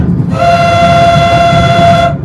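A Moscow metro express train sounds a long, loud, steady horn as it runs through Vykhino station without stopping, the tone holding for about two seconds over the rumble of the train.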